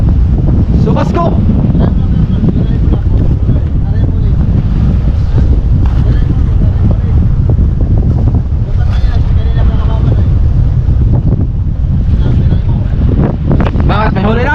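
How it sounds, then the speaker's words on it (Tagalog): Strong southwest monsoon wind roars continuously across the open sea around a small wooden fishing boat, buffeting the microphone with heavy low rumble and splashing water, while people talk intermittently. "Binanyan ka ng hanging habagat."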